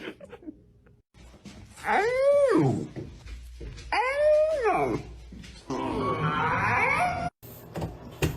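Dog howling indoors, two long rising-and-falling howls followed by a rougher, noisier wail, loud and close, separated by brief pauses.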